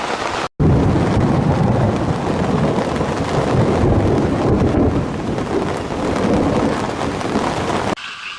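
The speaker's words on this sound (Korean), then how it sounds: "천둥 번개까지 치고 있습니다." Heavy summer thunderstorm in Canada, with a steady loud roar of rain and low rumbling thunder, plus wind buffeting the microphone, running nearly continuously before a brief dropout near the end.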